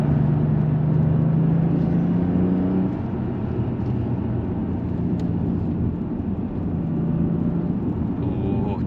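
An Audi S4 with an X-pipe resonator delete exhaust droning steadily as it drives, a loud low hum that eases slightly partway through, with people talking over it.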